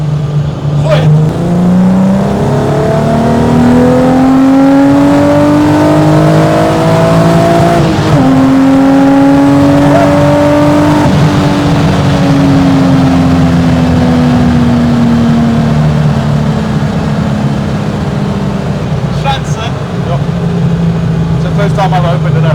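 A Mk1 R32 street car with upgraded suspension bushes is revved hard and accelerates, its engine note climbing steadily, dipping at a gear change, then climbing again; loud and close throughout, with people talking over it.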